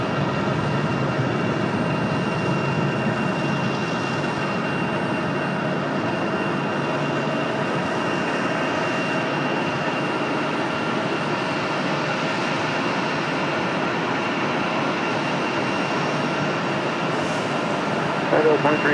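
An airplane takes off at Raleigh Durham airport, a loud continuous engine roar and rushing drone held steady for the whole stretch, with a voice talking over it.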